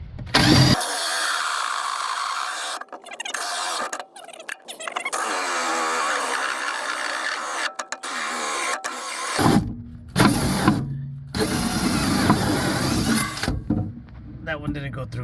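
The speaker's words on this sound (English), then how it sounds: "So this is the hole saw that I got from Harbor Freight." A Harbor Freight hole saw drills through an insulated house wall, grinding loudly in long bursts broken by sudden stops and restarts, with a person talking over it.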